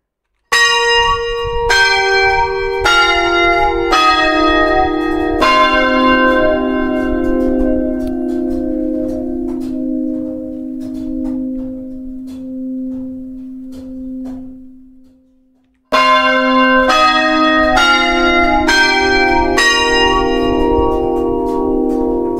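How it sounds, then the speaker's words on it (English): Carillon bells ring inside a Roblox video game: a series of bright, clear struck bell tones descending in pitch, one long note fading into silence, then another rapid descending run, loud and alone. "so there's like a little carillon here as well"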